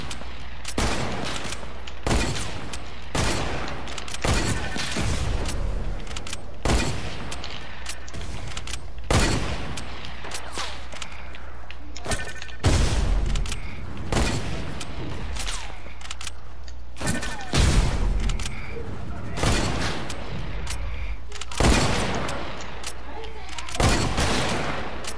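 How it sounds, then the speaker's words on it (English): Rapid bursts of gunfire ring out in a Fortnite match, loud sharp shots in clusters and volleys at irregular intervals, one of them a headshot. "I heard that was a headshot."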